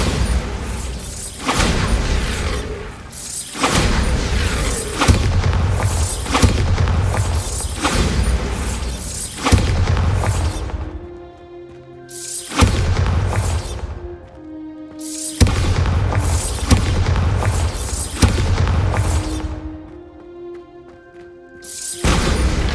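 Repeated explosion spells go off in Hogwarts Legacy on PS5, loud booming blasts arriving every few seconds with crashing debris and ringing, resonant tails between them.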